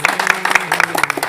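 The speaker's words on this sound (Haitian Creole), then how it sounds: "Nous demandons d'applaudir M. Samuel pour nous chaudement." Audience applause at a French-language event honouring a speaker named Samuel, a short burst of dense, steady clapping with a faint voice running underneath.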